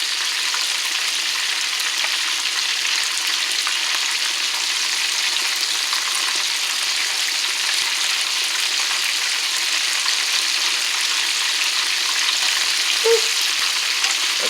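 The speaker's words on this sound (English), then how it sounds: "This grease is popping." Chicken drumettes fry in hot, popping grease, a steady dense sizzle with scattered sharp pops that runs the whole time and carries no voices.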